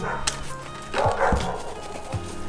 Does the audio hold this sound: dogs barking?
yes